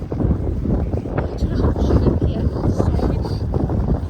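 Loud, gusty wind at the Pickering Steam Rally buffets the microphone in rough low-pitched bursts, filling the whole moment with rumbling noise.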